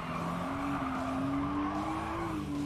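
Race car sliding sideways in Gran Turismo 7, a sustained engine howl with a long tire squeal riding over it, close and loud, no talking.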